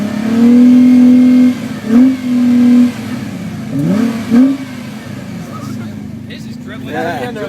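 A Mitsubishi Evo X fitted with an HES test pipe and Amuse catback exhaust revs loudly nearby in a few sharp blips, with a long first rev, then quick bursts, before settling toward a lower idle.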